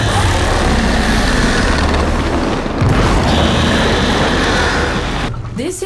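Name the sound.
explosion in a video game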